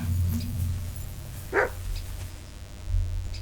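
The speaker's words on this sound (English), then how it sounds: "Barking." A single short dog bark in the medieval video game Kingdom Come Deliverance II rises once at mid-distance over a steady low ambient drone, with no talking.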